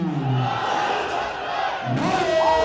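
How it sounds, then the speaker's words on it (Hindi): A large crowd at the Wagah border parade in Lahore roars and shouts in unison, rising chant-like slogan cries swelling twice over a dense background of cheering. "नारों की आवाज़ है, तालियों की गूंज है, अवाम का शोर है"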